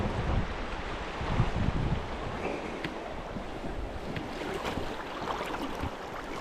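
Fast, shallow river water rushes steadily where salmon are being netted, a dense, constant wash with gusts of wind buffeting the microphone throughout.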